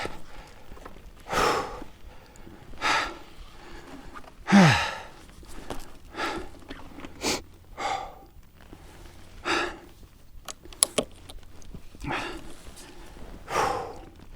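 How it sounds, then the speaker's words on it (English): Heavy breathing comes from a hiker climbing a 4500-foot mountain. Loud, close exhales, sighs and gasps repeat every second or two in an uneven, tired rhythm. "I'll stop breathing heavy."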